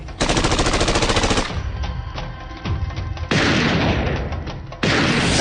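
Bursts of rapid machine gun fire in a war scene, dense and loud, with short breaks between volleys and heavier booms mixed in, close-up and without speech.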